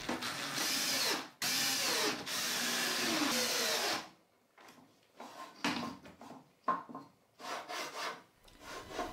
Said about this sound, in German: An der Ständerbohrmaschine werden dann alle 4 Löcher pro Platte mit einem 3 mm Bohrer durchgebohrt